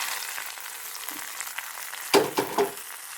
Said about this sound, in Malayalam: ഇനി കടുക് വറുത്ത് താളിക്കാം.